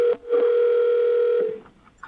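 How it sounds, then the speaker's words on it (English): A telephone tone sounds in the background of a call, one sustained steady electronic beep lasting over a second, loud and alone. "They're hearing a phone ringing in the background."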